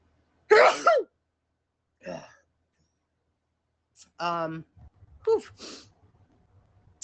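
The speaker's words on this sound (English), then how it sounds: "I'm going to sneeze." One sharp sneeze bursts out close by, followed by a few short vocal sounds and quiet pauses.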